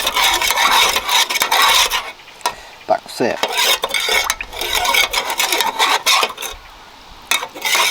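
A spoon scrapes and rasps around inside an aluminum pot of Canadian military ration food, steady stirring with repeated strokes, close by, with a brief spoken word near the end.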